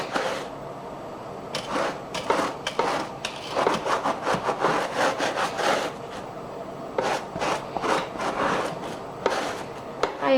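Small scrub brush working a cleaning solution into fabric doll seats, with rapid bursts of close bristle rubbing separated by short pauses.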